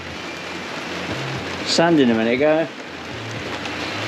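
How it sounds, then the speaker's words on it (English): Steady rain hisses throughout, with a person talking briefly over it in the middle, during woodwork sanding and finishing. "That rain."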